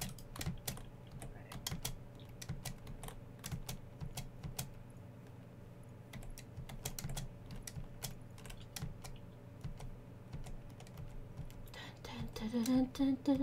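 Computer keyboard typing in quick, uneven bursts of clicky keystrokes close by, running through most of the stretch with soft whispering voices and low background hum.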